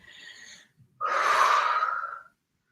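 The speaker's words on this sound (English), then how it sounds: "you're going to have to listen to my sniffles the whole time" A short sniffle followed by a longer, breathy inhale through the nose, close to the microphone with no talking.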